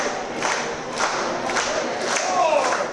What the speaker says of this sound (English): We hear this crowd coming to life, encouraging their favorite.